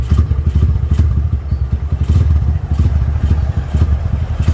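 A motorcycle engine runs just after being started on a low battery, a loud close putter with rapid irregular firing pulses and some clattering, steady throughout without speech.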